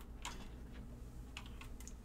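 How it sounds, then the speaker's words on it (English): Quick bursts of keystrokes on a clacky computer keyboard with Cherry MX blue switches, a handful of crisp clicks in two small clusters, faint and close. "I've just realized I've been using my clacky keyboard"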